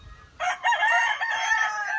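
A rooster crows once, loud and close, a single drawn-out call with no other sounds around it.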